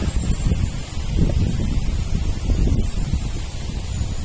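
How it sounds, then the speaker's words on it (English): Wind blowing outdoors, a steady low rushing roar buffeting the microphone, loud and continuous with slight swells, no voices. "Listen to the wind, it speaks."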